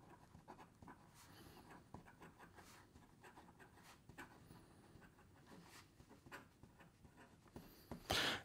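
Stilo & Stile Leonardo fountain pen with a broad nib writing on paper, faint close scratching strokes in short irregular bursts, quiet and alone.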